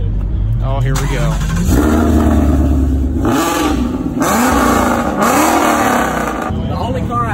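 A loud Mustang with an aftermarket exhaust revs hard several times in quick bursts at a car meet, its engine roaring close by while people talk and cheer over it.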